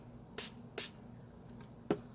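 Two quick hissing spritzes from a spray bottle, then a faint tap and a third short burst, in an otherwise quiet room.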